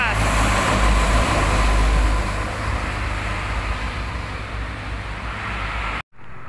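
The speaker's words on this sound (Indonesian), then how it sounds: "Ada bus Harapan Jaya berbodi Avante" Harapan Jaya coach with Avante HDD bodywork on a Mercedes chassis passing on a toll road, a loud close rush of engine and tyre roar that peaks early and fades into steady traffic noise, with a voice talking over it.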